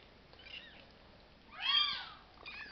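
Two-week-old kittens give a few thin, high-pitched meows in a quiet space: a faint cry, then a louder, wavering one, then another softer call.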